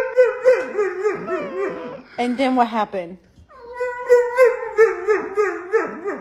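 A dog howls in long wavering, rising and falling cries that break off briefly and then resume, close and loud, while a person speaks over part of it.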